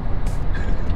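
A Renault Magnum truck drives past on the road in a short, rumbling moment, with a quick burst of airy hiss near the start and a steady engine drone underneath.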